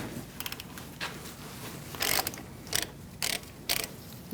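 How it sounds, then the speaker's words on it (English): A socket ratchet undoes the 11mm brake hose bolt on the caliper of a 2016-2019 Chevrolet Cruze, giving several short bursts of clicking between quiet pauses, close up with no speech. "We're going to remove our hose from our caliper using an 11mm socket."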